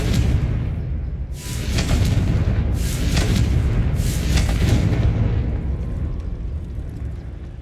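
Confringo spell blasts in Hogwarts Legacy: three loud, booming explosions roughly a second apart, each with a sharp crackling burst over a deep rumbling low end that lingers between hits.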